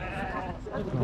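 At a livestock market, sheep give a short bleat amid the close chatter of people talking, the animal call rising briefly near the end over the voices.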